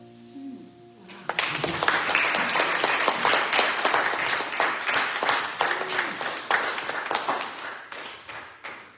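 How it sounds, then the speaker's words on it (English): An audience at a church service claps for a singer after her song. The applause bursts in after a short quiet moment, then holds as a dense, lively patter of hands that thins slightly near the end. "Another round of applause for Julie."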